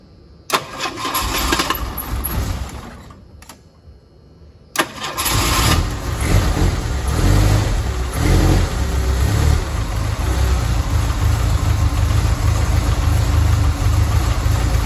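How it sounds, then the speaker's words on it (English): A 1979 Ford Pinto Squire Wagon cranks and fires from cold after a brief hesitation, then settles into a loud, steady idle with a rough, even rumble that runs continuously to the end. "All right, let's give this guy a start."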